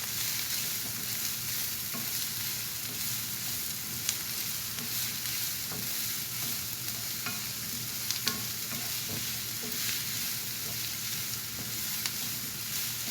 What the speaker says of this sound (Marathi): आणि आता ह्याच्यावर हे सॉटे करून घ्यायचे.